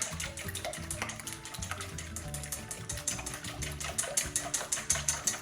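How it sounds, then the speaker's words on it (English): A plastic whisk beats eggs with buttermilk in a bowl, a fast, continuous rhythmic clicking and sloshing that stays steady and close for the whole stretch, with no talking. "Plastic whisk. Just gonna go ahead and mix up these eggs."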